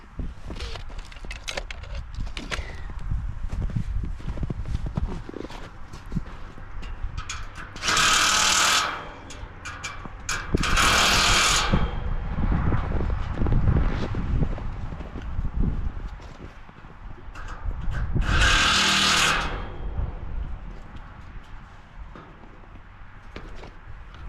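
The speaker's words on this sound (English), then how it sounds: "all the bolts and nuts are in for those, so just tighten it up here" Bolts and nuts being tightened on a metal greenhouse frame, with steady ratcheting and metallic clicking throughout and several louder bursts of tool noise, close by with no talk.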